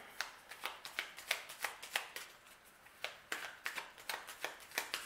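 A deck of cards is shuffled for a Gemini card reading, giving a quick run of crisp riffling snaps in a steady rhythm, close but quiet, with no voice.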